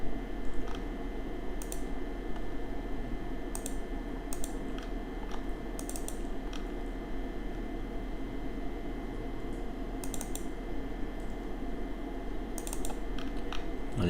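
Scattered computer keyboard typing and mouse clicks while a web form is filled in and submitted, faint and close over a steady electrical hum.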